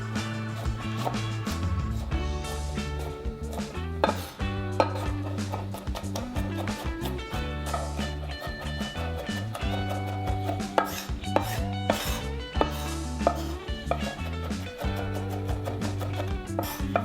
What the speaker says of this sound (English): so we're just gonna rough chop that